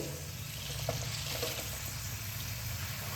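Chopped onion greens fry in a hot spiced pan with a continuous close sizzle and faint stirring movement.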